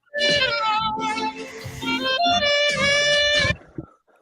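A cat meow sound effect plays, a long and bright harmonic cry lasting about three seconds and standing out loudly on its own.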